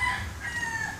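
Chickens cluck and call outdoors at moderate distance, a steady fowl chatter with no talking.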